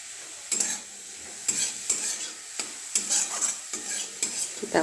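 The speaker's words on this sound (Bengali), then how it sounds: "দেখো গাজর কুচিগুলো দেওয়া হচ্ছে। দেখো এরপরে সুইট কর্নগুলো দেওয়া হচ্ছে, হ্যাঁ, একটু ফ্রাই করে নিই।" Chopped carrots and sweet corn frying in a pan for chicken soup, with a steady sizzle and repeated scrapes and clinks of a spoon stirring against the pan, heard up close.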